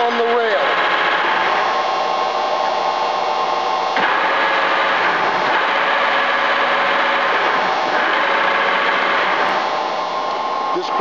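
A Webster & Bennett vertical boring and turning machine, with a 20-horsepower, 440-volt main drive motor, runs its rail rapid traverse as a loud, steady mechanical whine and rattle. The drone is continuous and close, with a slight change in tone partway through.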